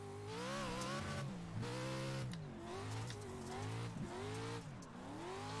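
A four-wheel-drive Pro 4 off-road truck races around the Crandon track in iRacing, its engine revving loud and close with rising and falling gear pitches, tire squeals and skids over a continuous roar.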